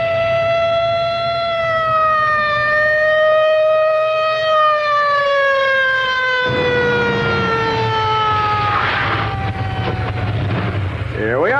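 A wailing police car siren from an old radio drama rises and falls in steady sustained sweeps, loud and continuous, with rumbling background noise building up toward the end.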